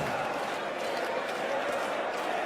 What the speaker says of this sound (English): The crowd now singing Peter Wright's name.